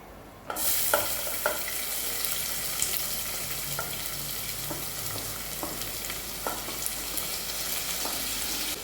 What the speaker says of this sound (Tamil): இப்போ இது எல்லாத்தையும் வதக்கி விட்டுறலாம்